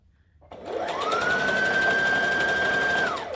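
A sewing machine stitching down the neckline of a Halloween costume starts after a short silence, then runs at a steady, fast whirring hum for about two and a half seconds before slowing as it stops.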